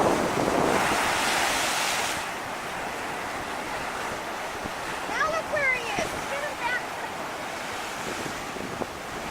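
Ocean waves surge and wash against a rock wall along the Koko Head coast in Hawaii, over steady gusty wind buffeting the microphone, with faint voices partway through.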